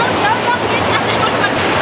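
Indian Ocean surf washing steadily onto an island shore at sunset, a continuous broadband rush of breaking waves with no clear gaps, close and fairly loud.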